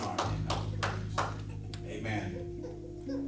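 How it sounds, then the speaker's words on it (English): A church congregation claps in praise, a handful of sharp rhythmic hand claps standing out over a sustained organ-like tone and a voice. "Let's give God a hand clap of praise."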